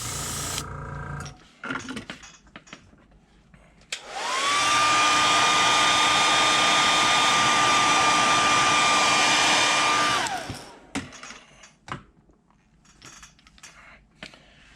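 A heat gun blows steadily for about six seconds to heat-set fresh paint on a fishing lure, starting and stopping abruptly, with faint handling clicks before and after.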